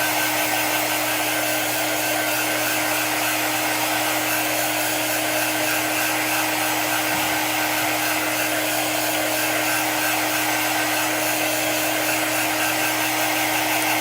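A hair dryer blows steadily and loudly at close range for the whole stretch, drying a chalk craft project with a constant whirring roar and no speech.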